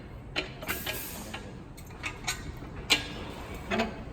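A Honda B18CR engine being turned over by hand on an engine stand, giving scattered clicking and ratcheting taps with short metallic ticks at irregular intervals, close and fairly quiet.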